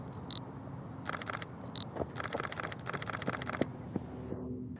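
An SLR camera fires its shutter in bursts while shooting action at a sixtieth of a second, quiet crisp mechanical clicks in quick rapid runs with a few isolated single shots, close and alone.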